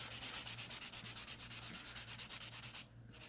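A sanding file bevels a nail in steady, quick back-and-forth strokes, close and rhythmic, with no talking; the rasping stops just before the end.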